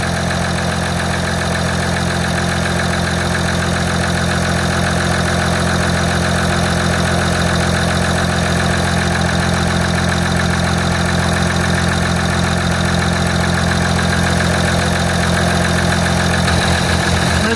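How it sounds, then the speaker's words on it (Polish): A 2016 Audi A6 Allroad bi-turbo engine idling steadily after injector fitting, a constant low hum with a faint rhythmic knock, close up and unchanging throughout. "Silnik zdecydowanie ciszej pracuje."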